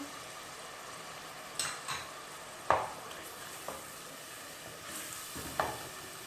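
Yogurt goes into a pan of frying channa masala. A quiet, steady sizzle runs throughout, with a few soft clinks and scrapes from stirring close by.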